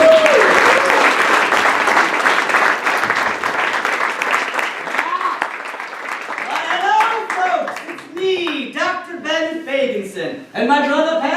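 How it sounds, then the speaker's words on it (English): A crowd applauds warmly at an evening event as founders are introduced, the clapping dense at first and thinning out, while a voice speaks over the fading applause toward the end. "Please give a warm round of applause for delicious Fago founders"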